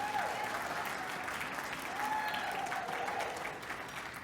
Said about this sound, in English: Some well-deserved applause for them.